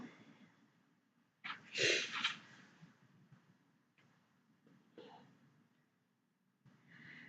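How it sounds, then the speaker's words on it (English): A few close, soft nasal sniffs and snorts from a person with a cold come in short bursts separated by quiet breathing pauses. "Sorry for my sniffles, guys."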